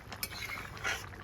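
Hilsa fish and green banana curry stirred in a pan, a short run of soft clinks and scrapes of a spoon against metal, close and quiet.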